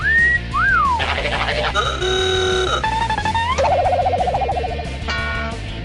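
A rising-and-falling wolf whistle from the video game You Don't Know Jack, followed by a run of other whistled and electronic tones, loud and close with no pauses.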